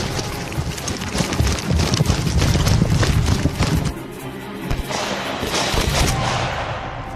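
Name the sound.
rifle gunshots at shooting competition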